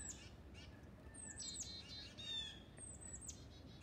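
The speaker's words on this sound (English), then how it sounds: "You can hear a blue jay in the background as well." Harsh blue jay squawks and a few short chirps sound at a distance over a steady outdoor background hiss in a backyard.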